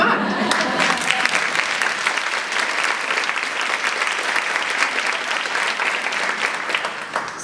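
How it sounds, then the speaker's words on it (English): An audience at an author talk on getting published gives a round of applause for an Emmy Award-winning guest, dense sustained clapping that carries on steadily throughout and tapers slightly at the end. "special round of applause for the Emmy Award-winning Linda"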